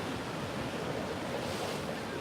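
Ocean waves at a shoreline during a full-moon high tide, a constant broad roar of surf with some wind buffeting, steady and fairly loud with no voices.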